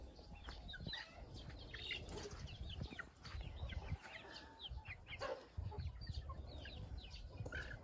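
Chicks peep and cheep in high, busy chirps over a low rustling background, with occasional wing flutters and soft clucking.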